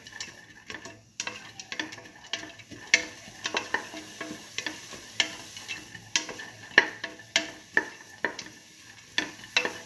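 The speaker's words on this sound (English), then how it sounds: "Thoroughly saute and mix." A spoon repeatedly scrapes and stirs split mung bean stew ingredients as they sauté in a sizzling pan, giving a rhythmic series of close clinks and scrapes over a constant frying hiss.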